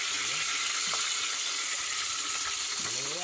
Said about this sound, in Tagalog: Prito kami ngayon.